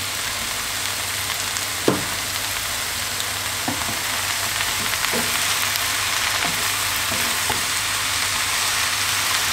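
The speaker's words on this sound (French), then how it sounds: "on va les faire sauter comme ça pendant 15 minutes à peu près pour qu'ils rendent leur eau et qu'ils soient bien cuits" Mushrooms sauté in a pan with a steady, dense sizzle throughout, broken by a few soft clicks and taps of a stirring utensil, close and even with no talk.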